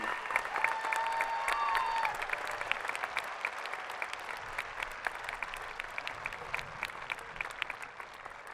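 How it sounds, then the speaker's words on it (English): Sustained applause from a large audience at the 2018 Shawnee Mission West graduation ceremony, a thick, even patter of many hands that carries on steadily throughout. "Let's give them a big round of applause for all their accomplishments."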